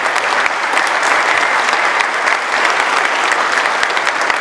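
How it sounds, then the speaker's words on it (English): A crowd at an automotive dealership brand launch in Wichita applauds loudly and steadily from close range, a dense, even wash of clapping with no break. "I think we owe them a huge round of applause"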